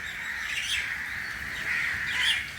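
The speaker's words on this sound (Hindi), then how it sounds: "परिंदों की आवाज़" Birds calling outside on a rainy morning, a continuous bright chorus of chirps and caws with a louder burst near the end, over a steady wash of background noise.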